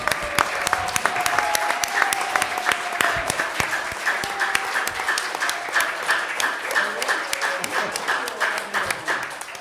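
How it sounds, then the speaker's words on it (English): Audience applause at an international U3A conference session, a steady dense patter of many hands clapping throughout, with faint voices and a brief tonal sound mixed in beneath. "ces applaudissements auxquels je m'associe"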